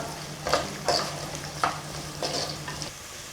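Small onions sautéing in a pan for village-style fish curry produce a gentle sizzle broken by several distinct spatula strokes and scrapes, heard up close with no voices.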